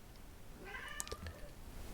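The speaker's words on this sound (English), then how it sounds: "the cat is complaining over in the corner." A faint, short meow rises from a cat complaining in a room corner some distance away, over a low background hum.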